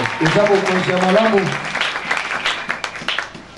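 Applause from a church congregation erupts alongside a singing or shouting voice, a dense clapping wash that stays strong through the first half and then thins to scattered claps mixed with voices.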